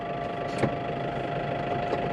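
A steady tractor engine idling close by, a low continuous rumble with a faint mechanical knock and no voices.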